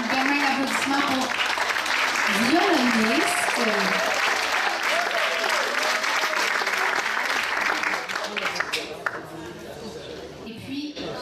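A theatre audience applauds a violinist on stage with strong, continuous clapping that carries a voice speaking over it, then thins and fades toward the end.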